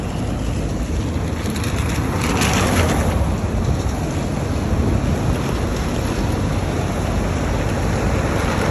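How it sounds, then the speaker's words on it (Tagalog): Heavy afternoon rain in Kuwait pours down in a dense, loud, continuous hiss, with a roar close to the microphone and no voices heard. "Ang lakas ng ulan"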